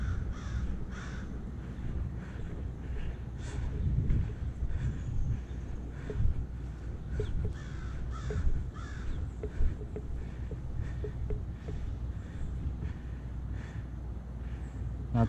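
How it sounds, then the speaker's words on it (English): Several crows caw repeatedly from outdoors, short harsh calls spread across the clip over a steady low rumble of wind and distant background noise. "There's crows."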